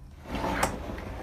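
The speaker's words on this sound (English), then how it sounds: "This is the door that takes you into the bathroom." Bathroom door of a 2019 Vanleigh Vilano 375FL RV swinging open, a short soft thud and rustle with a small latch click, close and quiet.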